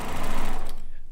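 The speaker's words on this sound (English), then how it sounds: "you could do it on your sewing machine." A sewing machine runs a straight stitch on quilt blocks, a steady fast mechanical whir heard close up. The whir stops abruptly just before the end.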